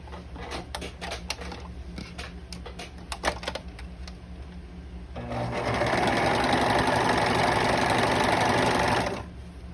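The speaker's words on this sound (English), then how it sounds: "I'm gonna begin to sew along this edge right here. So I am gonna be using my serger." A serger sews along the fabric edge of a fashion face mask, starting as scattered clicks and handling noises, then running as a loud, steady mechanical whir for about four seconds before stopping.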